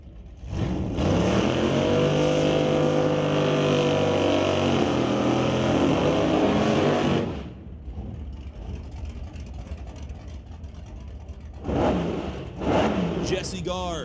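A 1981 Camaro at a bracket drag race roars away at full throttle for several seconds as the engine note climbs through the gears, then fades into track ambience. An announcer talks over the run.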